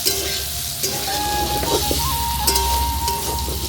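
Steady loud sizzling of pumpkin frying in a pan on a clay stove, a constant hiss with faint tones and light scraping, no voices.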